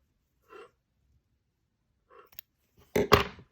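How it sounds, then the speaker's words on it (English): Scissors snipping the yarn tail of a crochet piece in a quiet room: two short soft cuts spaced apart, then a louder, sharper snip and rustle of the yarn. "So I'm going to cut a bit of a tail."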